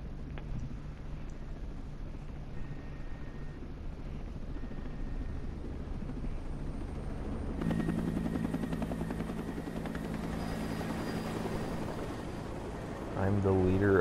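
Helicopters drone in Ghost Recon Breakpoint, a steady rotor rumble that grows louder and fuller partway through, with a voice talking over the noise.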